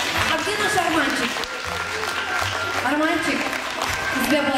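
Steady audience applause at a Caucasian concert, loud and sustained, with a host's amplified voice talking over it throughout.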